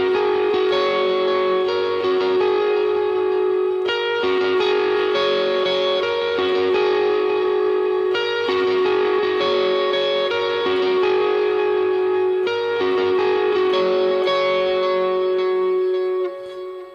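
A sustained, heavily effected overdriven electric guitar lead plays the melodic interlude line of a song over dense chords, loud and continuous with thick echo and chorus-like shimmer.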